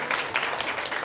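A youth church congregation claps for its teachers in a short burst of steady, even applause from many hands, with no voices over it.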